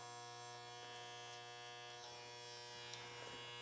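Electric hair clippers buzz steadily while cutting short hair for a short Ivy League haircut, a close, constant motor hum with small shifts as the blade moves through the hair.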